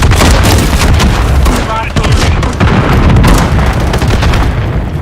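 Grenade blast in Call of Duty MW3 amid constant loud gunfire and booms, a dense, saturated barrage of explosions and shots with battlefield radio voices mixed in.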